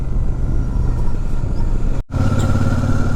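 Motorcycle engine running steadily while riding on a road near Rishikesh, a continuous close drone with a brief dropout midway before the engine note resumes.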